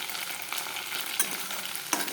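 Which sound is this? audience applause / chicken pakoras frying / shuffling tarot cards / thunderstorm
chicken pakoras frying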